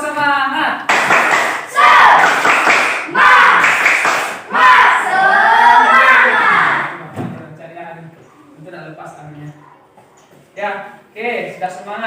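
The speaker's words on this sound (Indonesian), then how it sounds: "kita tepuk semangat dulu ya supaya semangat." A class of students performs a rhythmic spirit clap chant, bursts of loud unison clapping and shouted chanting alternating with brief pauses, close and energetic, with a teacher's voice between sections.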